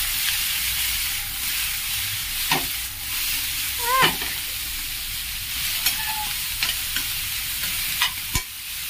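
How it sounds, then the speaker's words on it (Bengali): Paneer frying in a pan with spring onion tossed in, a steady close sizzle with stirring scrapes and a few sharp utensil knocks throughout, no talking. "ওখানে পনির ফ্রাই হচ্ছে"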